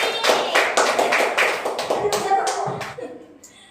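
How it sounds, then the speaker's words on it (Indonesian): Pupils in an elementary classroom clap for a classmate, a lively burst of rhythmic hand claps up close that thins out and fades after about three seconds, with children's voices mixed in. "Tepuk tangan buat Murni."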